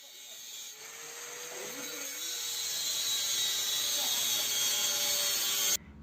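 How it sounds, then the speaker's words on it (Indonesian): A hand angle grinder cuts through a hollow steel post, giving a steady, loud, high-pitched whine with a harsh metallic hiss that slowly builds over several seconds and stops abruptly near the end. "lakukan pemotongan menggunakan gerinda tangan"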